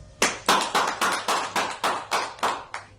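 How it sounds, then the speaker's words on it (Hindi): Clapping at a Republic Day poetry recital, heard as about ten evenly spaced, fairly quiet claps in a steady rhythm. "नए कवि के लिए एक बार तालियां हो जाए।"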